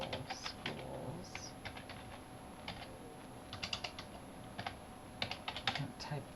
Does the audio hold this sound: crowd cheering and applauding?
no